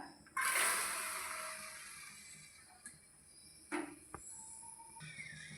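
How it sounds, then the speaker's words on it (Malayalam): Water gushes into an uruli, a traditional cooking pot holding chopped vegetables for Onam kootu curry. A loud pour fades away, followed by a few light clinks and knocks nearby, with no voices. "ഇതിലേക്ക് പാകത്തിന് വെള്ളം ഒഴിച്ചു കൊടുക്കാം വേകാൻ ആവശ്യമായ വെള്ളം ഒഴിച്ചു കൊടുക്കുന്നുണ്ട്"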